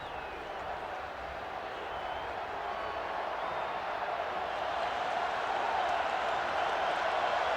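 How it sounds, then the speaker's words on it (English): Kansas State fans at the Fiesta Bowl against Ohio State in 2004 roar in a large stadium, a broad sustained cheer that swells steadily louder over several seconds with no clear talk on top. "And the crowd from Kansas State is alive again."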